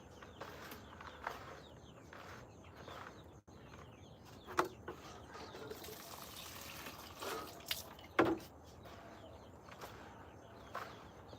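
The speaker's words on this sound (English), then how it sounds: "I'm gonna take that and I'm gonna water in here." Water is poured onto soil while planting persimmon trees, producing soft, low-level trickling and dripping with a few sharper splashes, and birds are faintly audible in the background.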